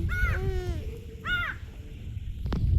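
A crow caws twice, loud and close, followed by a sharp click against low background rumble.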